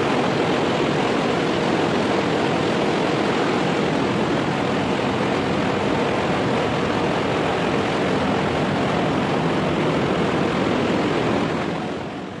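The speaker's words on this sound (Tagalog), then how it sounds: "Ang gandang pagmasdan ng propeller ng barko mga kabro." A ship's propeller churns sea water in a loud, continuous rushing roar of foaming wake, steady throughout and close by, with no voices.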